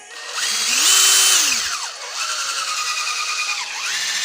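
A TC-CD 18/35 Li cordless drill runs with a slipping clutch and some extraneous noise. The motor gives a close, loud whine that climbs, holds, then drops, followed by two shorter spin-ups with a rattling edge.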